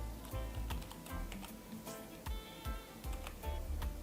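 Quiet typing on a computer keyboard, a steady run of light key clicks with irregular spacing, close and alone with no talking.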